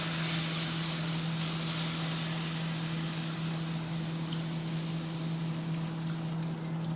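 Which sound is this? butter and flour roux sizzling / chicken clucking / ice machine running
butter and flour roux sizzling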